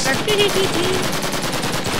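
Rapid machine-gun-style bursts from a neighbour's gun in Minecraft, a steady rattling stream of shots throughout, with a brief startled voice at the start.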